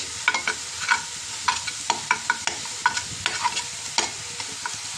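Greens stir-fried in a pan in the morning make a close run of scraping stir strokes and short clatters over a light, steady sizzle, with no talking.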